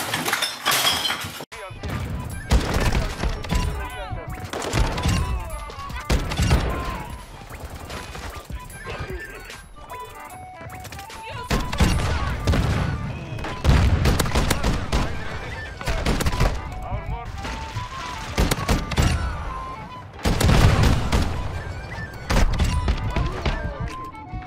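KV Broadside shotgun blasts in Call of Duty: Modern Warfare II, loud booming shots fired in bursts with breaking and shattering clatter, mixed with game sounds and a player talking excitedly over them.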